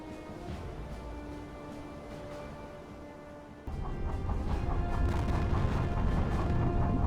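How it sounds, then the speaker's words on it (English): A secondary explosion in the submarine game UBOAT, during a tanker convoy attack: a sudden deep rumbling boom lands about halfway through and keeps roaring as a steady, heavy low wash over the game's background hum. "we got another secondary explosion"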